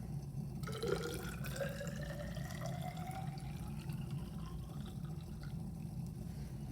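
Liquid poured into glassware in a chemistry lab, a steady trickle with a faint rising pitch as the vessel fills, heard close and alone over a low background hum.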